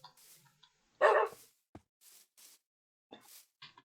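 Wolves barking in the Minecraft video game, a few sharp yips and barks in short separated bursts, with one louder bark standing out among quieter calls.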